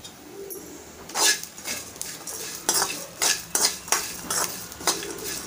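A spoon scrapes and clinks against a pan as coriander and fennel seeds are stirred, about a dozen irregular strokes, close and distinct over a faint background hum.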